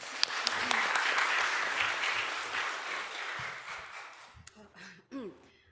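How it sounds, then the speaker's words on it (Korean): Church congregation at a Korean church in Bloomington applauding to welcome a member, a warm round of clapping that fades out gradually, followed by a cough and brief voices as it ends. "그래서 박수로 우리 승주 환영하겠습니다"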